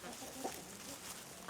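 Backyard chickens clucking faintly in the background, a few soft low clucks within a quiet, hissy outdoor ambience, with no speech.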